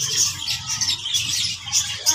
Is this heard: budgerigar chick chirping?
yes